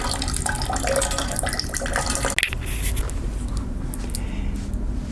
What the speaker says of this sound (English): I again have the water flowing